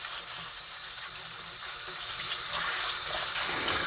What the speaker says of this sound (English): make sure we do a thorough job of scrubbing these carrots